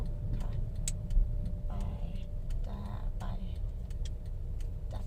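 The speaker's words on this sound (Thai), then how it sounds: "อัปสัญญาณไฟเลี้ยวขวา" A car's turn signal indicator ticks steadily at a regular pace during a driving lesson in Ayutthaya, over low engine hum, with brief soft voices in between.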